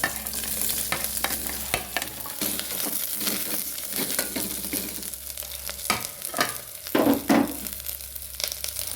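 Jackfruit pieces and onion go into hot oil with popping mustard seeds, giving a close, busy sizzle with stirring scrapes and crackles and a louder burst near the end.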